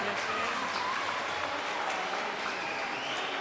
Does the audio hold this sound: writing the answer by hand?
no